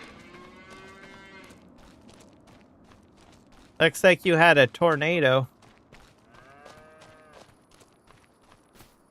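Cattle in the video game Farming Simulator 25 moo in one loud, close burst of several calls, with a person talking quietly before and after.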